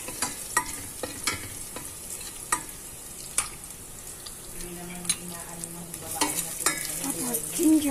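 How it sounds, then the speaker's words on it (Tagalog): Garlic sautés in a pan with a steady sizzle and frying hiss. Sharp clicks and scrapes from stirring recur throughout, close and alone. "Manggigisa na tayo."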